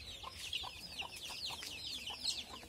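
Chickens and young chicks cluck in quick, soft bursts, a chorus of short calls repeating steadily outdoors under a cloudy sky, moderately close and fairly quiet.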